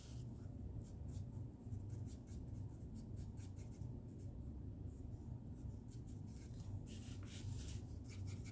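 Stampin' Up blend marker coloring on paper: a soft, continuous scratchy rubbing of the marker tip, close and faint, with repeated short strokes and no talking.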